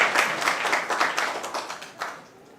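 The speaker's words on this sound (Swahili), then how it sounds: "Pigeni makofi." Schoolchildren in a classroom clap together in a burst of quick, uneven hand claps, fairly close and loud at first, then thinning out and fading over a couple of seconds.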